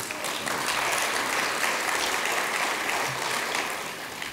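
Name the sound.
conference audience applause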